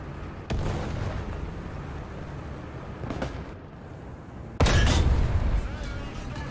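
Tank cannon fire and heavy shell hits in an armored-combat video game, with three loud booming blasts spaced a few seconds apart over a constant rumbling battle background.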